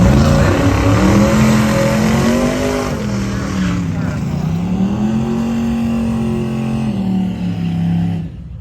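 Drag racing cars, a nitrous car and a twin turbo car, roar loudly at Northern Michigan Dragway, engines revving and rising in pitch as they accelerate, with an announcer talking over the noise.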